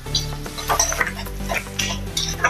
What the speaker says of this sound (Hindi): इसको थोड़ा सा हम नरम करेंगे प्याज को।